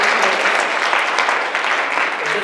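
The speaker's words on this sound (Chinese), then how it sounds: "我们给他们一个热烈的掌声，好不好？" A church congregation applauding, a dense, even burst of many hands clapping at close range throughout.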